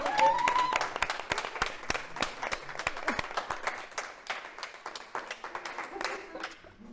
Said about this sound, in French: On peut applaudir Zoté, hein, quand même.